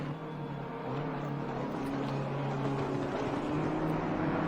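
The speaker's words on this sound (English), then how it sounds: "We've got some very fast cars coming up behind us" Porsche GT3 race cars closing in from behind in a sim racing game, a steady engine drone that grows gradually louder as they approach, with a whining tonal note over the roar.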